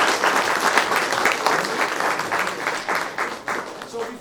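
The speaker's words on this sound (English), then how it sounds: "Big round of applause for Mr." Audience at a real estate meetup breaking into a dense round of applause, many hands clapping loudly and continuously from nearby, tapering slightly at the end.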